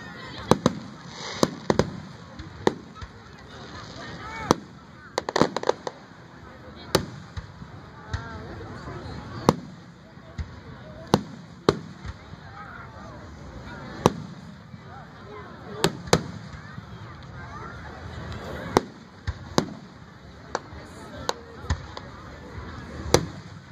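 Fourth of July fireworks popping and booming at a distance, scattered sharp bangs at irregular intervals over a constant background hiss, with occasional voices murmuring nearby.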